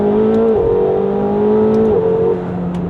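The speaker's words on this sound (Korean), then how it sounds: "자, 다운시프트." A McLaren 750S V8 revs hard on a downshift, its loud steady engine drone stepping up in pitch with each quick gear change, heard up close from inside the car with no talking.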